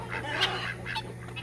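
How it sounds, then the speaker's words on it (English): Ducks calling excitedly around a freshly filled five-gallon bucket of water set in the sun, a few loud, raspy honk-like quacks in quick succession, close by over a low steady hum. "The ducks are just ecstatic to have water."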